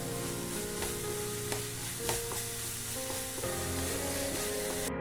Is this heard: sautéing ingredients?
yes